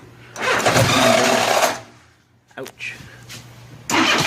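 A car engine that has just had its head gaskets replaced cranks and fires, running loudly for over a second before cutting out. Brief bursts of revving follow, with a voice speaking between them.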